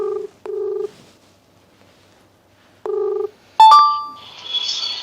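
A telephone call being dialed: two short clean keypad tones separated by a pause, then a sharp electronic chirp and a brief ringing burst, close and clear.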